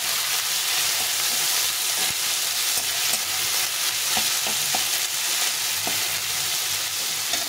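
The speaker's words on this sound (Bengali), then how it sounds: "এখন আমি এই টমেটোটা দিয়ে দেবো, 1 বাটি টমেটো এটা দিয়ে দেবো। দিয়ে এটাকে ভালো করে আবার কষিয়ে নিই।" Tomatoes being sautéed with ginger, garlic and onion in a pan: a loud, constant close sizzle with occasional stirring clicks and scrapes, no voices.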